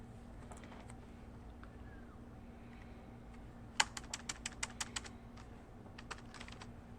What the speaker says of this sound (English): I'm going to type that into Desmos